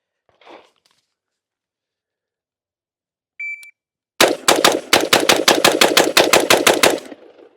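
A Colt 727 carbine clone fires a fast string of about fifteen loud, evenly spaced shots at an outdoor range during a drill, preceded by a faint noise and a short timer beep.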